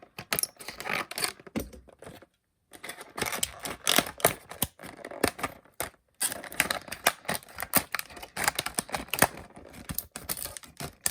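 Close-up scissors snipping and crinkling the stiff plastic packaging of a diecast model car go on in irregular bursts with brief pauses, with sharp clicks and rustles throughout.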